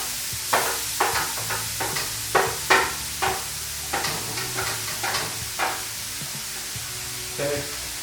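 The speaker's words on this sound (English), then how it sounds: "Now we can get the carrots, the celery, the jicama in there." Onion, carrots, celery and jicama fry in hot oil for egg roll filling, with crackling sizzle and repeated sharp scrapes and bursts as the vegetables are stirred, close and fairly loud.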